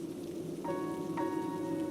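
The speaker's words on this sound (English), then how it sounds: "we should head back before the rain gets heavier" Rain falls steadily in an animated outdoor scene, a soft, even hiss of drops that stays constant throughout, fairly quiet, with a couple of faint tonal notes layered above it and no talking.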